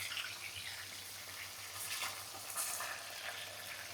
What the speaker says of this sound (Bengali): ওই যে দেখছেন তেল ছিটে।